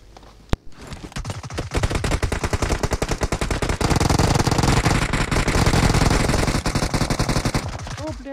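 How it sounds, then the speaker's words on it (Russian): Rapid automatic gunfire and bursts of shots from a shooter video game, dense and sustained throughout after a sharp opening crack, with faint voice chatter underneath. "с той стороны стреляют"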